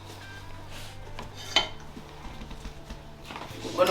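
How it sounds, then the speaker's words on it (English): A spoon scraping and clinking against a pot while stirring Ghana spinach soup, faint close knocks and metallic taps over low kitchen background noise. "I'm gonna stir this soup a little bit."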